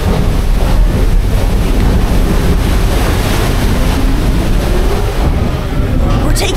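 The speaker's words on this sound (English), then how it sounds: "Ooh, wave! Right there. Wave!" Sea waves wash against and into a small boat off Largs, Scotland, a continuous loud rush of surf and splashing water with wind buffeting the microphone throughout.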